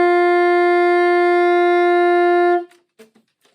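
A tenor saxophone holds a single steady G for about two and a half seconds, loud and close, rich in overtones, then cuts off into a few faint clicks and quiet breaths.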